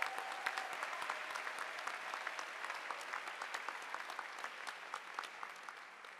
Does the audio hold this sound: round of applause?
yes